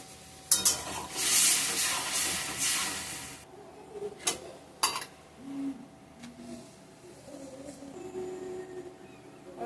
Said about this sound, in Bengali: এবারে তেঁতুলের জলটা দিয়ে দেবেন